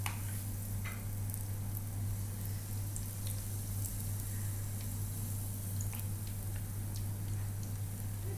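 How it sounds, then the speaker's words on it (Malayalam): Spoonfuls of goli bajji batter fry in hot oil with a soft, steady sizzle dotted with faint crackles over a low background hum, with no talking. "ഓരോ സ്പൂൺ വീതം എണ്ണയിലേക്കിട്ട് വറുത്തെടുക്കാം."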